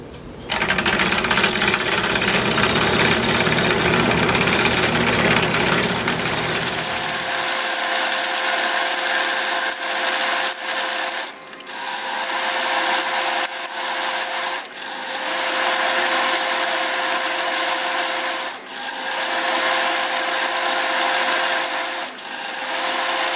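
A power tool buzzes steadily as it cuts small openings in a lamp faceplate, loud and close, with the pitch dropping and briefly pausing a few times over a long continuous run.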